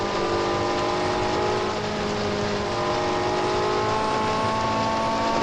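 A Porsche engine in the racing game Real Racing 3 drones steadily at high revs throughout, loud and continuous with no speech over it.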